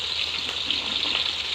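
Dalagang bukid fish frying in a pan, a steady close hiss of sizzling oil running without a break for the whole moment, with no voices over it.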